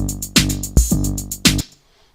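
Short, clipped bass groove notes in a chord-based pattern, played back from a sequencer grid: a few punchy, rhythmic hits with strong low harmonics, loud and close, ending in silence.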